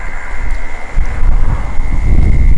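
Strong wind buffets the microphone outdoors, giving a loud, continuous low rumble with gusts that swell toward the end, alongside a steady faint tone.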